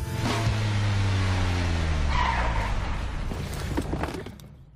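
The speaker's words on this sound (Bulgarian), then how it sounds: "Каква кола чувам? Старичък Лексус." An old Lexus car engine idles nearby, then its rumbling note shifts and fades over a few seconds. The engine is heard alone, with no talk.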